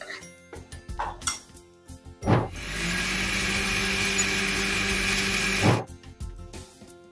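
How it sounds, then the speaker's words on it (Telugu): A mixer grinder whirs loudly and steadily for about three seconds, blending uttapam batter, starting and stopping abruptly, with light clinks of utensils before and after. "దీన్ని మిక్సీలో వేసి ఒక్క 2 రౌండ్లు తిప్పేయండి"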